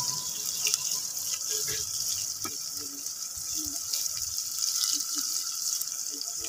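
Garlic and onion frying in a pan with shrimp give a steady, close hiss and sizzle that runs throughout, with faint clinks of a utensil and no speech.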